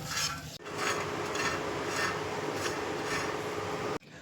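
Dried coconut roasting in a pan while being stirred, a steady close scraping and rasping with faint sizzle, broken by short pauses.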